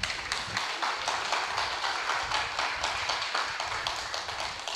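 A church congregation claps together in a steady, rhythmic pattern at a Sunday service, a full-room sound that keeps a regular beat throughout.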